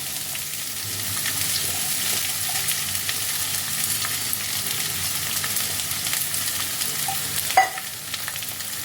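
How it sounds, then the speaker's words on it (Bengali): Cut beans and carrots hit a pan of chopped ginger and garlic already frying for a chicken vegetable soup, giving a steady close sizzle with soft stirring and a single sharp clink near the end. "আদা রসুন কুচিটা ফ্রাই হয়ে গেছে। এবার আমি এর মধ্যে দিয়ে দিচ্ছি কেটে রাখা বিনস আর গাজর।"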